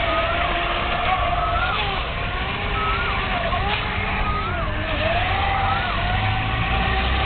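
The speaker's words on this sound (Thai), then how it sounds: "เรือแรงจริง" A powerful jet boat engine roars steadily and loudly, its pitch wavering up and down as it runs at speed, with water and wind noise mixed in.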